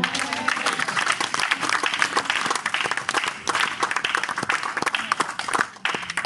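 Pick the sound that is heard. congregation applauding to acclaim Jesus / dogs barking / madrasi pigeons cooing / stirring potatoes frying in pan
congregation applauding to acclaim Jesus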